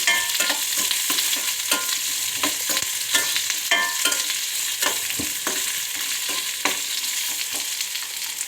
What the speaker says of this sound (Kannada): ಈರುಳ್ಳಿ ಕೆಂಪಾಗೋವರೆಗೂ ಫ್ರೈ ಮಾಡ್ಕೊಳ್ಳೋಣ